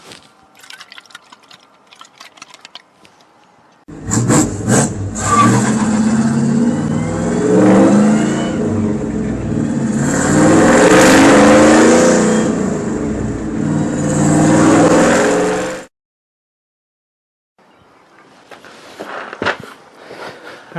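A car engine fitted with a Proform carburetor being revved, loud and sustained for about twelve seconds with rising and falling surges, stopping abruptly and followed by quieter handling noises.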